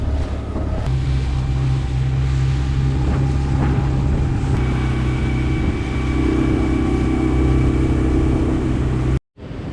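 A dinghy's outboard motor drones steadily while crossing the bay toward Atlantis in Nassau, Bahamas, loud and close, with wind buffeting the microphone before an abrupt cutoff near the end.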